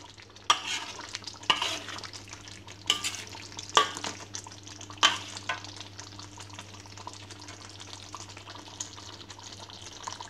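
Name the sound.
stirring sambalado tanak in a pan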